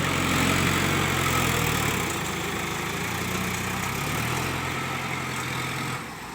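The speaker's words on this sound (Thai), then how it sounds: "ท่อซิ่งนี่ คนขับจะมันครับถ้าขับท่อซิ่ง รุนนี้ก็เป็นเครื่องสีสูบครับ" A Kubota M7040 tractor's four-cylinder engine fitted with a racing exhaust runs at steady revs, a loud throaty rumble that holds constant and then eases slightly near the end.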